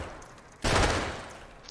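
Gunfire in a first-person shooter game: a single sudden loud burst of shots that decays over about a second, with quieter background before it.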